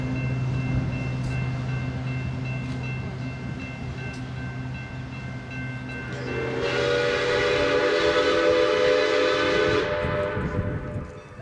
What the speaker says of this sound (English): Milwaukee Road 261 gives 2 blasts of her whistle, officially and finally marking the departure of her first excursion in 4 years